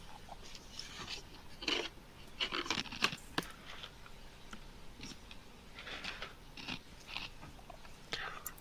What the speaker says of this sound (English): you will be hearing pretzels being crunched